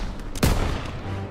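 A single sharp, booming gunshot bursts out mid-way through a short burst of gunfire in Call of Duty WWII, loud and close over low rumbling battle noise.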